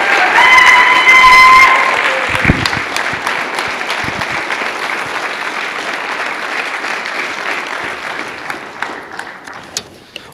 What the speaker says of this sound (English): we get one more giant a round of applause for William H. Malloy?